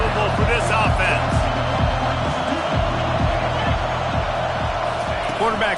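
A stadium crowd at an American football game roars steadily and loudly throughout, with rhythmic thumping and cheering under a commentator's voice.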